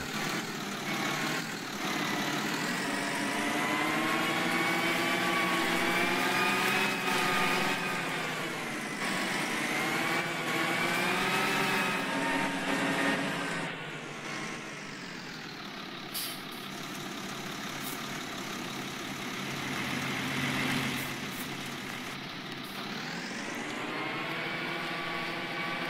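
Big tractor engine in Farming Simulator 19 straining to pull a 40-ton load from a standstill, a steady loud drone that rises and shifts in pitch as it builds momentum, with no talking.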